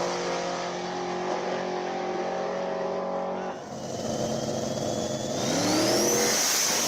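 A Chevrolet Blazer at a drag race, its engine holding a loud, steady roar that dips briefly, then climbs again in a rising rev, heard from a distance over crowd noise.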